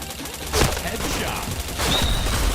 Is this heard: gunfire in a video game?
yes